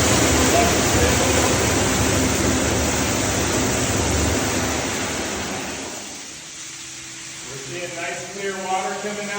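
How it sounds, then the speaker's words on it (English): Water rushes steadily out of an opened firefighting standpipe outlet as a loud, broad hiss, then eases off and fades toward the end while a clanking, ringing sound comes in. "Nice clear water coming out, so we're going to call that good."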